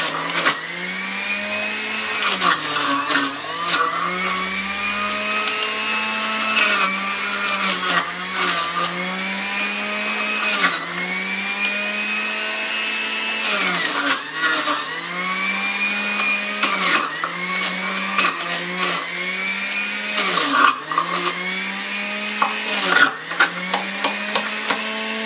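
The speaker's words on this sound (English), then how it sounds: "So we'll juice this one first, measure the juice, and see how much we get 1 pound of carrots." A juicer grinds through a pound of carrots with a loud, continuous motor whine that rises and dips in pitch as each carrot piece is fed in and chewed through, steady and close throughout.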